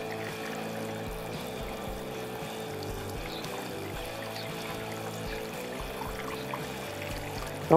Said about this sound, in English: I'll just pour this water on.